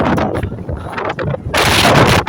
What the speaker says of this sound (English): this is windy, powerful winds.